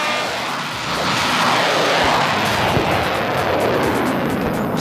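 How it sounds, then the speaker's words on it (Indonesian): Loud, continuous roar of a fighter jet passing overhead outdoors, a broad rushing jet-engine noise that swells and holds steady across the whole stretch with no talking. "Pesawat tempurnya belok lagi guys."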